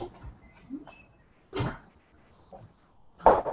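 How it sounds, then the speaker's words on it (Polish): A door swings open into a bathroom indoors, giving a few soft knocks and a louder clunk near the end, with no one speaking. "Otwieramy drzwi."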